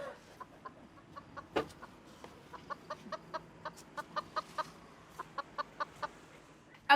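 Chickens cluck inside their farm coop, a series of short, close clucks and squawks in uneven bursts over a quiet background, with no talking.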